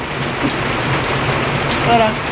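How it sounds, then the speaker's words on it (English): A rain shower in Laos patters steadily on surfaces nearby, an even hiss of drops filling the air without pause. "I love the rain."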